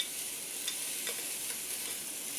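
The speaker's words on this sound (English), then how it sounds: "So halfway through browning it, you want to add your onion." Ground meat and onion sizzle and hiss in a frying pan for fideo con carne, a steady close crackle with a few soft scrapes of stirring and no voices.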